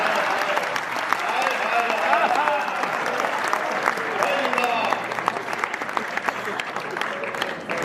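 An audience at a kavi sammelan poetry event gives steady, dense applause that continues without a break. The clapping stays loud and even throughout, with crowd voices mixed in beneath it.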